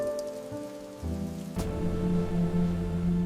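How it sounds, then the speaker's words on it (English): Cold rain falls steadily in a continuous patter on surfaces, thickening partway through into a denser, louder wash, with no voices. "The rain came down in thin, cold needles, soaking through my coat before I even made it halfway across the parking lot."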